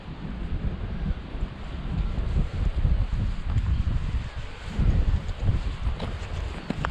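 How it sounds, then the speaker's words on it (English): Small ferry crossing choppy water off Buncrana, County Donegal, with strong wind buffeting the mic, low rumbling surges of water and constant gusty roar, loud and close, no talking. "Right and choppy in the wee ferry today"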